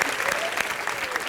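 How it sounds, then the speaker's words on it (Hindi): Studio audience at a live Hindi comedy show breaks into brief applause, a steady wash of clapping with some voices mixed in. "चलो तालियां बजाओ इसके लिए जोरदार"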